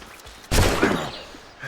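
A single sharp burst of gunfire from the Assassin's Creed Rogue video game cracks out near and loud, then decays into a rumbling tail.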